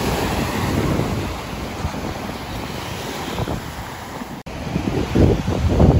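Ocean waves washing onto a tropical shore where small fishing boats rest, a steady broadband surf roar with wind buffeting the microphone and a louder wash near the end.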